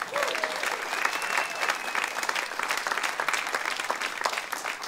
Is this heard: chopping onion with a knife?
no